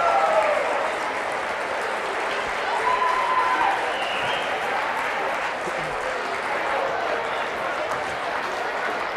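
Home fans in a gym applaud their team at a WIAA Division 4 girls basketball sectional semifinal, a broad, steady wash of crowd clapping and cheering from across the stands, with an announcer talking over it.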